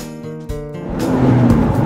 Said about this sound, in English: And John's going to drive it for us, and we're going to see if and how this car differs from last year's model.